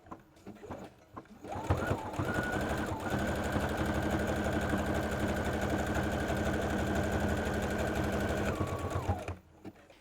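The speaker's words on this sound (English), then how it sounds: "Use the same zigzag stitch to go around the outside of the heart." Sewing machine zigzag stitching around a fabric heart on a handmade toy snake, a loud continuous motorised whir with rapid needle chatter that starts after a moment, runs steadily for several seconds, then stops.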